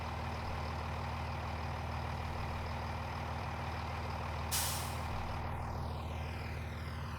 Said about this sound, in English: More of the braking.